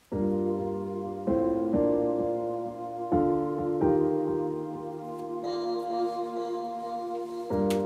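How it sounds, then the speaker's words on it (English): Vocal chop of a sung 'ah' with reverb panned alternately left and right, repeating in short sustained tonal bursts with sharp onsets within a song, moderately quiet and without speech. "the chop in the context of the whole thing sounds like this"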